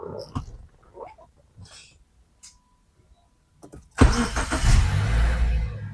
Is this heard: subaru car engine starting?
yes